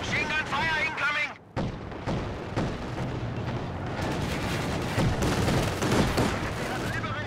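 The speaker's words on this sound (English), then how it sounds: "Machine gun fire incoming!" Machine gun fire and battle noise in the Company of Heroes 2 video game rattle steadily through a dense mix of rapid shots and booms, with a voice speaking briefly at the start.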